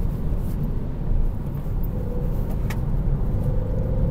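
A Renault Mégane driving along a road, its engine giving a steady low rumble as it pulls and accelerates, with road and tyre noise throughout and no talk.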